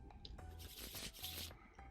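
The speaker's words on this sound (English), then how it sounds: "Shuffle the deck a few times with R" A virtual deck of playing cards is shuffled in the Tabletop Simulator video game, giving a dense, continuous riffling rush across the whole two seconds, with no talk.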